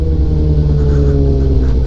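A motorcycle engine idles steadily with a loud, low, throbbing rumble, close and unchanging throughout.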